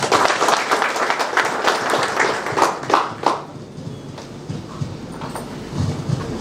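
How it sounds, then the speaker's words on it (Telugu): An audience at an agents' meeting in a hotel hall claps for a speaker, the applause loud and dense for about three seconds, then thinning to scattered claps and quieter room noise. "కాబట్టి సార్కి మనం ఒకసారి గట్టిగా క్లాప్స్ రూపకంగా తెలియజేస్తున్నాం"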